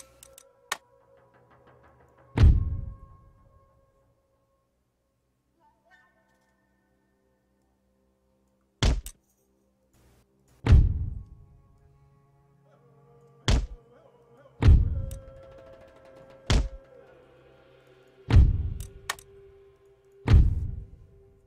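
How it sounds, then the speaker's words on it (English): Cannons fire in an Empire Total War battle set in the American Civil War, giving about nine sharp, booming shots spaced irregularly over the stretch, each decaying quickly into near silence between. "So a few cannon shots go off."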